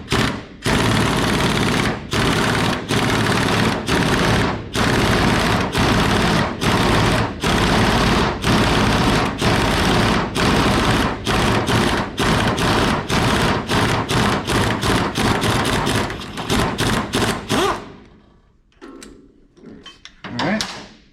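An impact wrench removes a press-fit pulley from a GM vane-style power steering pump in loud, rapid hammering bursts, repeated in short runs for about seventeen seconds before stopping with a few quieter clunks.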